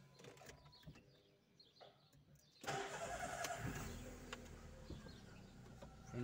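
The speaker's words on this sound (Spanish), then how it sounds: "Vamos a verificar si arranca. Sí, ahí vemos que busca arrancar." A VW Voyage engine cranks and tries to start: faint clicks and a soft whirr come first, then the engine catches abruptly into a loud, rough running rumble that holds steady, with birds faintly audible in the background.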